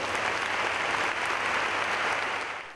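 A standing ovation from thousands of business leaders: dense, steady applause filling the hall at a constant level, fading slightly at the end with no talk over it.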